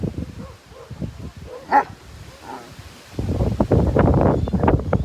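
A dog barks in short bursts, growing louder and busier in the second half, with rustling and wind noise outdoors.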